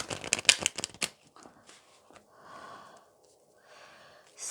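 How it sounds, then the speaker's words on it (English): Tarot cards shuffled by hand in a quiet room: a quick burst of crisp riffling flutters up front, then softer, scattered slides and shuffles trailing off. "So I'm going to shuffle the cards"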